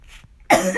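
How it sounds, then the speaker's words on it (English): A single sharp, close cough bursts out after a brief quiet moment, harsh and throaty, trailing off with a rasp. "I turned the phone so I wouldn't cough in y'all's faces"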